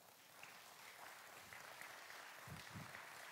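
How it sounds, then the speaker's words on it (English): Audience applause, faint and distant, a steady patter of clapping at a ceremony honoring young players, with a couple of louder claps near the end. "we need to just applaud them one more time"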